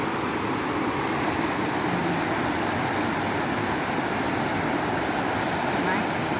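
A waterfall swollen with heavy jungle runoff roars as a steady, loud, broadband rush of falling and flowing water that does not let up, with no other distinct sounds over it.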